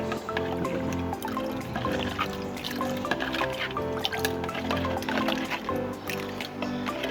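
A mint and lemon drink mixture is poured into a glass, giving a steady liquid trickle with small drips, heard under continuous background music.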